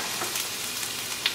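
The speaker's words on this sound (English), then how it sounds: "we're gonna fry up some ginger" Garlic and ginger fry in a pan with a steady, soft hissing sizzle, continuous and close, with faint stirring ticks and no voices.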